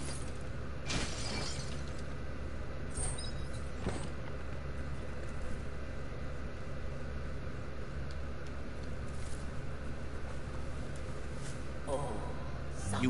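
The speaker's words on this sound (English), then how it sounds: "You shouldn't worry about smashing up the box." A wooden box is smashed in the video game Biomutant, with a few sharp breaking crashes and splintering bursts over a steady low game ambience, and a voice can be heard.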